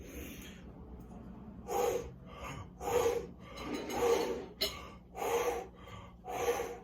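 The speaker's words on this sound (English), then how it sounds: "30 retention power breaths." Wim Hof retention power breaths: a person takes repeated deep, forceful breaths close to the mic, about six rhythmic rushes of air roughly a second apart, each a loud whooshing inhale or exhale separated by brief quiet.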